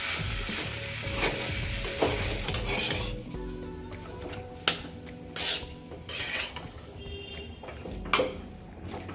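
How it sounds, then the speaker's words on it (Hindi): Potatoes stir-fry in a pan, with a spatula scraping and clinking against the metal over a soft sizzle. Scrapes and clanks come in bursts, close and fairly loud. "अब मेरा आलू भून चुका है, अच्छे से ही मैं भूनी हूँ।"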